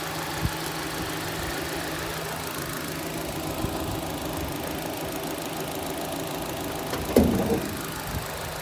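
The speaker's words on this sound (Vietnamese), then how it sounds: "Đấy, máy thì rất êm." An imported 2009 Daewoo Lacetti with a 1.6-litre engine and manual gearbox idles smoothly and steadily, a close, even hum with a couple of faint clicks and a brief knock near the end.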